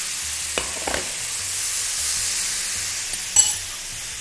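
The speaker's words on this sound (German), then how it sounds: "Ich gebe jetzt das angebratene Fleisch wieder zurück in die Pfanne." Browned lamb pieces returned to a hot pan for a curry, sizzling steadily while a utensil stirs them, with a few sharp scrapes and clinks standing out against the constant frying hiss.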